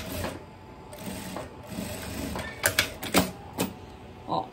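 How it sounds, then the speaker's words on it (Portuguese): Sewing machine stitching a discreet seam on a viscose dress belt, a soft uneven run of mechanical whirring and clicks with several sharper knocks toward the end, fairly quiet and close. "eu passo uma costurinha aqui, bem discretinha aqui"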